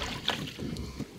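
Oars dipping and splashing as a fishing boat is rowed across open water while trolling for pike and zander, a couple of soft strokes close by over light wind noise, with no talk.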